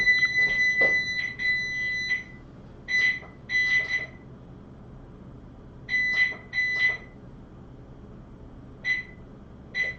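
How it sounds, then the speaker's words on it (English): A house fire alarm beeping in short high-pitched bursts, a quick cluster at first, then scattered pairs and single beeps with silent gaps, loud and close indoors. "This fire alarm, man, I don't know what was wrong with it"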